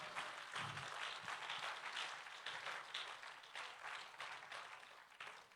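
A church congregation applauds, a dense steady wash of many hands clapping close and loud that keeps going throughout and eases off only slightly toward the end.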